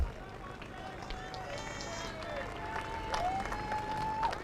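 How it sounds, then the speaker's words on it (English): Scattered applause from a soccer crowd as an injured player walks off the field during a match, light clapping mixed with outdoor crowd noise and a nearby commentator talking over it. "making his way off to an applause from the crowd."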